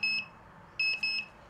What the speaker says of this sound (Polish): I tu włączył właśnie nam się alarm.